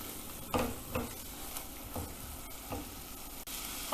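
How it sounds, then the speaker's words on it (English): Dry spices and masala paste cooking in oil in a pot for egg and potato biryani, giving a steady low sizzle with several soft spoon scrapes and stirs spaced through it, nearby and with no talking. "Cook till the oil starts separating."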